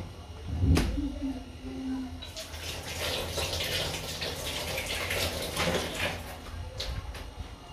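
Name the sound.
tap water running while washing ginger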